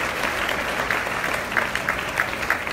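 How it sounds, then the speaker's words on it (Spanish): A crowd at the Boys & Girls Clubs of Puerto Rico Youth of the Year 2018 ceremony applauds steadily, a dense patter of clapping that holds throughout at moderate volume. "recibamos con un fuerte aplauso al CEO de Boys and Girls Club de Puerto Rico, Eduardo Carrera."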